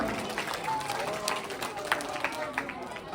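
An audience claps at a prize-giving ceremony, a scattered crowd of hand claps close by, mixed with voices.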